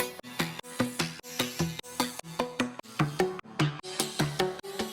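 A wavetable synth arpeggio pulses in a steady repeating rhythm of plucked notes, each swelling and cut off by an auto filter, with delay and reverb tails smearing between the notes; purely instrumental and upfront.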